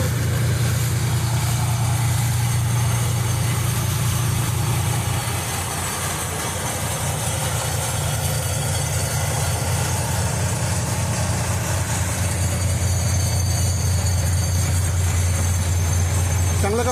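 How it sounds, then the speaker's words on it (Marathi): Water pumps running to drain flood water during heavy September rain in Mumbai, a loud steady low motor drone that dips briefly mid-way and then resumes. "पंप लावलेले आहेत"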